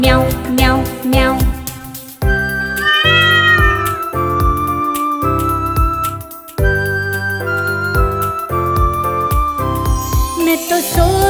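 A cat meows repeatedly within a bright children's nursery-rhyme song, with tinkling music and a sung voice that imitates the meowing.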